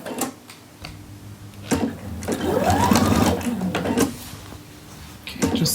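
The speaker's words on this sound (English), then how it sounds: "just stitching the collar" Close sewing machine stitching a shirt collar in short bursts, with starts and stops and a faint rising whine of the motor between rapid needle clatters.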